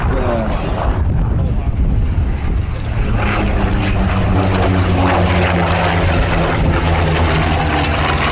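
A Vought Corsair propeller fighter flown by the Red Bull Flying Bulls team passes at the Duxford Flying Legends airshow, its loud, steady engine drone filling the scene while a commentator talks over it.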